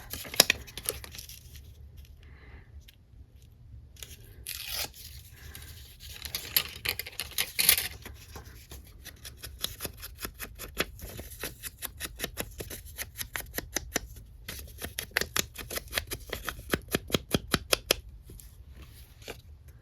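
Scrapbook paper rustles, crinkles and tears close by in irregular bursts, then settles into a quick run of sharp, rhythmic snipping and ripping near the end.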